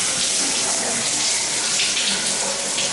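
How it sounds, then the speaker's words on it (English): Hot water gushes from a bathtub faucet in shower mode, a steady loud hiss of spray running without pause. "I didn't realize it was going to go straight to shower mode."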